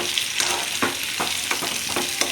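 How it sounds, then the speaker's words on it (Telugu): Chopped onions frying in oil until red for dum biryani, a constant close sizzle with regular scraping strokes of a ladle stirring the pan. "కట్ చేసి పెట్టుకున్న ఆనియన్ని ఈ ఆయిల్లో వేసుకోవాలి ఆయిల్లో వేసుకొని బాగా ఎర్రగా వచ్చే అంతవరకు బాగా వేగనిచ్చాలండి"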